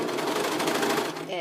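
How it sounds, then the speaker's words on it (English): A serger runs at a fast, steady mechanical chatter while stitching a seam in a wool sweater being turned into longies, close and continuous for just over a second. "When you're serging, don't be afraid to go slow and take breaks."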